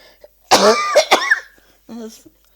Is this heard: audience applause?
no